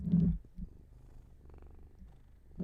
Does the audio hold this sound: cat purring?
yes